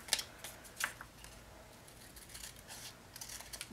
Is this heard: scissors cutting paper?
yes